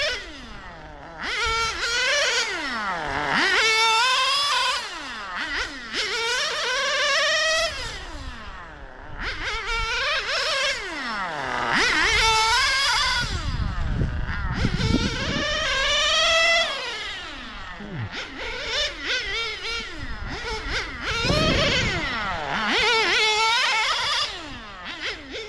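A Sirio S12 Evo3 nitro engine powers an RC car around an outdoor track at about half throttle, buzzing high and nasal and rising and falling as it passes and brakes through corners, steady and fairly close throughout.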